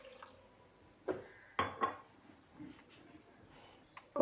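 A cup of milk poured into a bowl of paratha batter mix with spices, heard as a few short, soft liquid splashes and drips close by against a quiet room.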